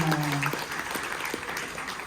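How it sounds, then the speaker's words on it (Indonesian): Wedding guests at a hotel ceremony applaud in a short burst of mixed clapping, with a voice briefly heard at the start over the crowd. "Tepuk tangannya mana?"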